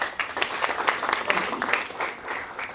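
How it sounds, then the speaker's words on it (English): An audience at a law celebration event applauds a winning bar team, a dense, steady burst of clapping that fills the room for a few seconds. "Please give the team a big applause."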